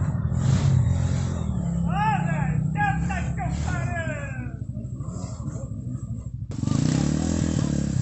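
A trail motorcycle engine runs steadily in a forest and rises in a quick rev near the end, with voices and a cat-like meowing sound over the motor partway through.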